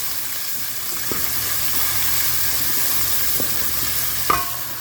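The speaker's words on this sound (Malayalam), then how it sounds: "ഇനി നമുക്ക് ഇഞ്ചിയും പച്ചമുളകും ഇട്ട് കൊടുക്കാം. ഇതൊന്ന് നല്ലോണം ഒന്ന് ഫ്രൈ ആക്കിയിട്ട്" Ginger and green chillies fry in hot oil for chicken gopi masala, a constant, fairly loud sizzle with a few occasional utensil knocks.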